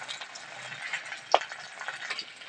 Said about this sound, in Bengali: তাই একটু ভেজে নেবো।